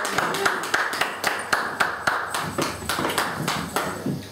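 A worship service congregation claps in a steady, lively rhythm, many hands striking together in close repeated beats that fill the room without a break.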